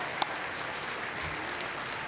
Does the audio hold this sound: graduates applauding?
yes